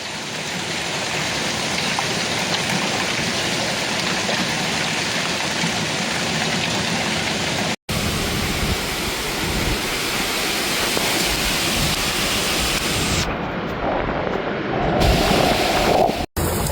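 An extreme rainstorm downpour in Rheine, Germany, causing flash flooding, roars as a loud, continuous wash of water, broken by two brief cuts.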